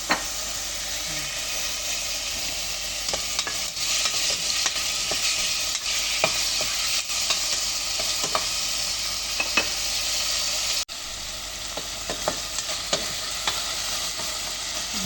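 Pumpkin and mixed vegetables sautéing in a pan with seasonings, a steady close sizzle and hiss broken by frequent scraping stir strokes throughout, no talking.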